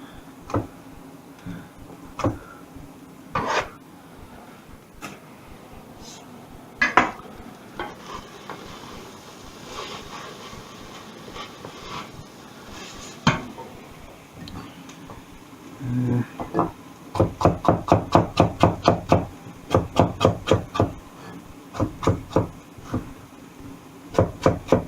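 Carrots sliced thinly with a knife on a wooden chopping board: sparse clicks at first, then a quick, regular run of sharp taps near the end, close and clear.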